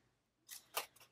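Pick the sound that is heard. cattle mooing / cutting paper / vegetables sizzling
cutting paper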